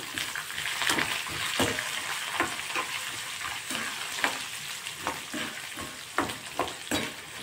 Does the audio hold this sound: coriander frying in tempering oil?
yes